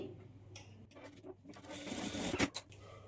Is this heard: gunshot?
no